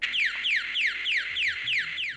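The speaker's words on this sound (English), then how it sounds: "If the alarm goes off a second time" A bedwetting alarm goes off with a loud electronic tone that sweeps downward again and again, about seven quick repeats in a steady cycle with nothing else heard.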